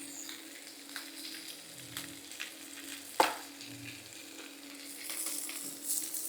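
A steak sizzles loudly in a hot pan, its constant close crackle rising near the end, with one sharp clink partway through and no voices.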